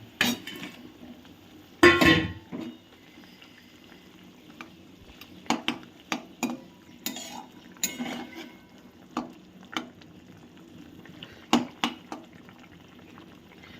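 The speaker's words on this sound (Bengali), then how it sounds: "দেখুন জলটা খুব খুব সুন্দরভাবে ফুটে উঠেছে" Water boils in a cooking pot for a Bengali fish curry with mustard paste, with scattered bubbling pops and light clinks against a quiet background.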